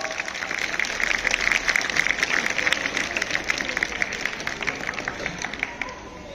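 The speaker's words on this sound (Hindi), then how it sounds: "तालियां बजाओ एक बार।" An audience at a Republic Day event on 26 January claps in a steady, dense burst of applause that fades slightly toward the end.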